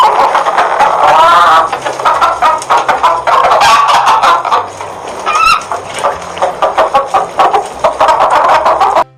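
Cartoon roosters and hens of a farmyard village crow and cluck in a busy, continuous chorus, loud and close, with overlapping calls throughout and no talk.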